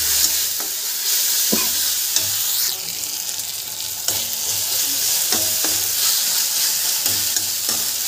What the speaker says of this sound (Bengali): এবার আমরা আদা রসুন লঙ্কা পেস্টটা দিয়ে নিলাম।